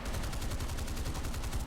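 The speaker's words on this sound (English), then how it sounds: "And work him over with a cannon," Rapid aircraft cannon fire from an F-86 Sabre jet in the video game War Thunder, a fast, even stream of bursts sustained for under two seconds, loud and alone.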